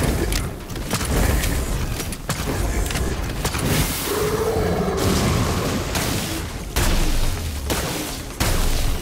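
Gunfire aimed at The Construct during a fight in the video game Scars Above: a dense, sustained barrage of booming shots over rumbling game noise, loud throughout with brief dips between bursts.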